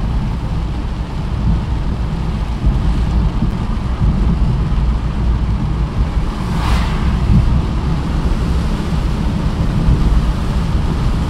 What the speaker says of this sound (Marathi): पाण्याचं प्रमाण, पावसाचं प्रमाण वाढलेलं आहे.